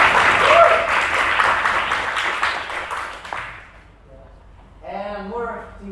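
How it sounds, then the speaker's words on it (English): Audience applause at a math integration contest final, a dense burst of clapping that fades out after about three seconds, followed by a voice speaking. "So also a round of applause to Cao Suo."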